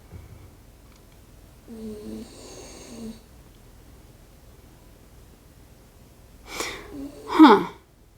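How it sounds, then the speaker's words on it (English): A person snores in two faint, rough breaths, a low drawn-out one early on and then a louder, noisier pair of snorts near the end, against a quiet room. "He's snoring."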